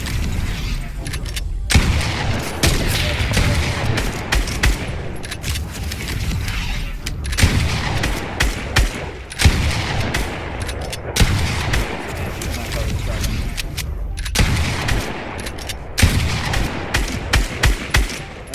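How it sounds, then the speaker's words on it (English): Rapid assault rifle fire and louder single sniper shots ring out in a Fortnite aim course, dense and continuous throughout, with a voice talking over the gunfire. "you're ripping through them with an AR, whatever. And then you have to pull your shot, sniper out, and hit the blue ones"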